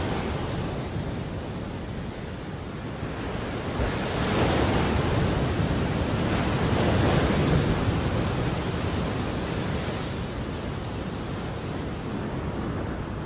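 Edge of a full-blown tropical cyclone lashing Christmas Island: a steady, dense roar of wind and surf that swells to a louder peak through the middle before easing slightly, with no voices.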